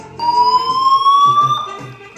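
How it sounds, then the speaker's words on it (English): A loud electronic fire alarm siren wails steadily, its tone sliding slowly upward before cutting off, with no voices. "When the siren goes off, everyone must leave the building immediately"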